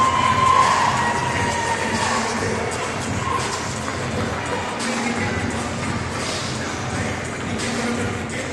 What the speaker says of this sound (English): this crowd is going crazy for CJ Edwards